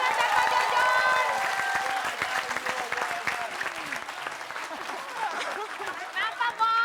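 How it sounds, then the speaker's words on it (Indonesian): A studio audience at an Indonesian comedy show claps loudly and steadily, with some cheering and crowd murmur, fading toward the end. "Tepuk tangan dulu dong buat Bang Mali, Pak Bola, dan Pak Jojon."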